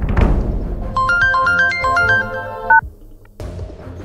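A mobile phone rings with a short electronic ringtone melody of quick bright beeps lasting about two seconds, clear and close, followed by a pause and faint room sound.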